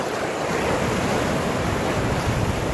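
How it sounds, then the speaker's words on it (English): Ocean waves crash onto rocks along the Lebanese coast beside an ancient Phoenician wall, a loud continuous roar of surf with steady wind buffeting the microphone and no voices. "Waves are coming through."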